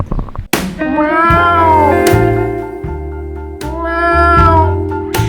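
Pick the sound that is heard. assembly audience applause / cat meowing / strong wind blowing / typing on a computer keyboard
cat meowing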